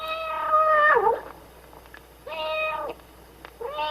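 A cat meows twice in clear, loud calls with rising and falling pitch, then starts a third meow at the end, each separated by quiet pauses.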